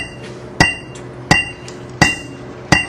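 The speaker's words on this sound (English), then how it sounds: "I'll try not to kill everyone with this metronomes a little on the loud side" Loud metronome clicks at a steady beat, four sharp ticks about 0.7 seconds apart with a bright metallic ring, alone in a quiet room during a music clinic.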